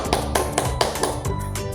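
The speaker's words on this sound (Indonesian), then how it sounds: "tepuk tangan dulu buat kelompok 1" Students in a classroom clap for a presenting group, a short burst of close, bright hand claps with a few accented strikes, with little talk over it.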